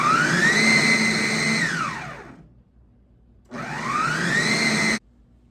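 A kitchen blender pulses a bean burger mixture in two loud whirring bursts, separated by a short pause and each ending abruptly.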